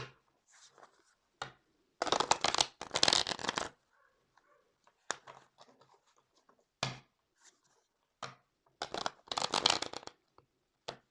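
A deck of tarot or oracle cards being shuffled by hand in quiet bursts of close riffling and flicking, separated by pauses with small card handling sounds.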